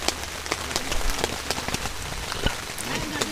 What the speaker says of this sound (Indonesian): ini hujan deras, di luar hujan deras